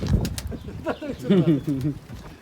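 Pigeons cooing in a crowded coop holding hundreds of birds, steady soft coos layered close together, with wing flutters and someone talking over them.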